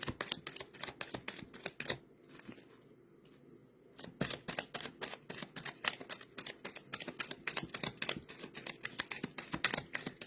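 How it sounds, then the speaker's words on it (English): A deck of cards is shuffled in quick bursts of crisp riffling and tapping, close but fairly quiet, with a short pause partway through. "One last shuffle."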